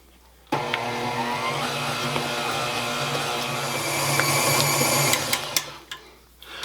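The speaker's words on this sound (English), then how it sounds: "And then we are going to blend this until it's all together." A stand mixer with a paddle beats cheesecake batter with sour cream added, a steady motor whir that starts abruptly, holds loud and even, rises slightly near the end, then cuts off.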